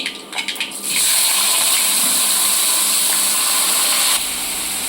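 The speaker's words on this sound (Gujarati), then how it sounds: "હવે આપણે વઘાર કરીશું" Mustard seeds and cumin for a gourd curry hit hot oil with a sudden loud, steady sizzling hiss that follows a few brief crackles and then drops slightly in level near the end.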